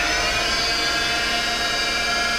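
An Emcoturn 140 CNC lathe's spindle motor spins at about 1,500 RPM, giving a steady, loud, even whine with a layered mechanical hum that holds constant throughout, with no talking.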